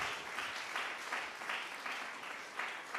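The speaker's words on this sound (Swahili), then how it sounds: "Mahurire makofi magiuka." A church congregation at a Christmas Eve service claps together in steady, rhythmic waves, a dense patter of many hands filling the space at moderate distance without any talk over it.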